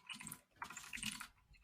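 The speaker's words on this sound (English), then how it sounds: "Probably hear me typing furiously as I talk." Rapid, furious typing on a computer keyboard, close and clear, in two dense bursts of clicking keystrokes split by a brief pause, with no voices.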